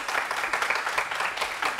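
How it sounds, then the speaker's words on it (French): A studio audience applauds on a French-language television talk show, a short burst of light, scattered clapping at moderate volume with no voices over it. "Public, applaudissez un tout petit peu."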